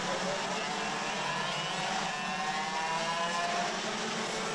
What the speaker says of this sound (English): there's another cart that has got a loud exhaust